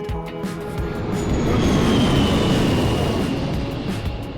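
An airplane flyby sound effect dropped into a song in the Just Dance 2023 video game, a loud, broad roar that swells toward the middle and slowly fades, with music faintly beneath.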